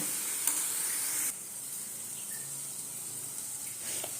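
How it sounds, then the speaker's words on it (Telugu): Ginger garlic paste cooking in a pan gives off a soft, steady sizzle, louder for the first second and then settling into a quieter, even frying hiss. "కొద్దిగా అల్లం వెల్లి పేస్ట్ చేశాను ఇప్పుడు బాగా మగ్గిపోవాలండి"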